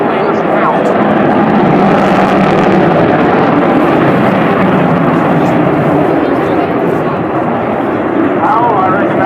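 An Avro Vulcan XH558 bomber passes at the 2013 Waddington airshow, its engines producing a loud, continuous roaring howl that fills the whole stretch without letting up.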